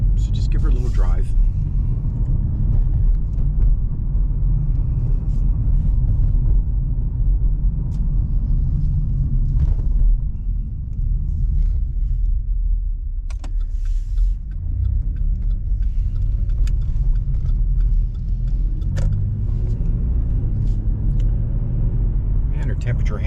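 Cabin sound of a 2011 Chevy Impala on the move: a steady low road rumble and engine drone runs throughout, with a person talking over it and a few faint clicks and knocks.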